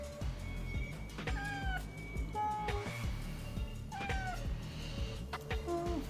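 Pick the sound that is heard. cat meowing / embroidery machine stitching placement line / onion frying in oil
cat meowing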